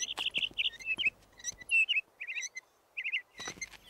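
A cartoon songbird chirps in quick, bright bursts of high tweets and trills, close and clear, with short gaps and light clicks between the phrases.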